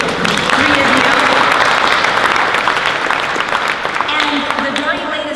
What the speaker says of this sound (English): we'll clap for you